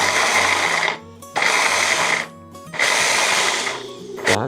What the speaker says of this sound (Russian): Так, теперь я через блендер это пропускаю.